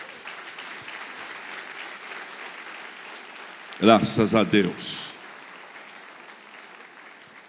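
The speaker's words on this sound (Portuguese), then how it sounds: "Dá ao Senhor a sua melhor salva de palmas" A church congregation at a Quadrangular service gives a short, loud burst of clapping lasting about a second, rising sharply and fading quickly, with a preacher's voice speaking before and after it.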